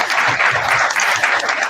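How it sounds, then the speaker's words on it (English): A short burst of steady group applause for event stewards, dense and fairly loud, with a few voices faintly mixed in. "I just want to give a big round of applause to all the stewards."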